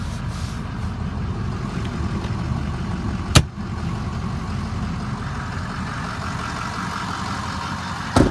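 A 2005 Ford F250 pickup truck engine idles with a low, steady rumble, quiet and even throughout, broken by a couple of brief sharp clunks.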